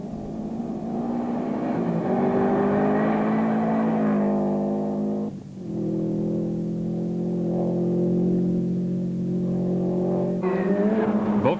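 A Subaru Impreza rally car in the 2003 Cape Rally runs hard with a loud, sustained engine howl. The note briefly dips mid-way as it shifts, then surges again near the end.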